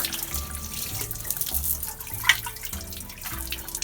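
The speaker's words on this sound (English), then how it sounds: "let the water out" Water drains out of a Wonder Wash, a non-electric manual washing machine, after pillowcases are washed: a steady soft trickle and pour of liquid with faint splashes, close and fairly quiet.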